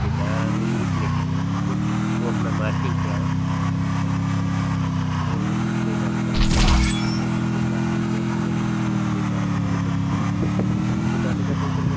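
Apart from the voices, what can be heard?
vehicle driving in video game Free Fire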